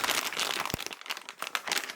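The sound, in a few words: plastic bag packaging of Harman Kardon speaker crinkling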